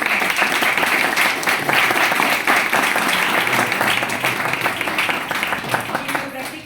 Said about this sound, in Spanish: quiero que por favor le brindemos un aplauso al doctor Rubén